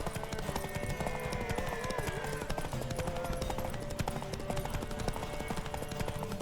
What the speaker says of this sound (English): This horse racing is not very high octane stuff.